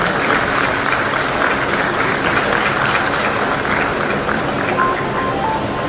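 Loud, dense applause from a large audience at a government conference in Madhya Pradesh on new road and bridge construction technology, a continuous wash of clapping with no break.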